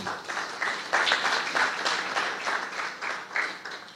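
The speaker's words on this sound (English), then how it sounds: "I'd like a round of applause for Akash" An audience gives a round of applause, a moderately loud, steady patter of many hands clapping that swells slightly and carries on without pause for several seconds, with no talking heard.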